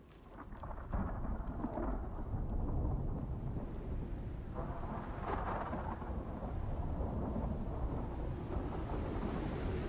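A thunderstorm in the survival game Icarus, with a constant wash of heavy rain and wind and deep rolling thunder swelling beneath it for the whole stretch, loud and unbroken, with no talking.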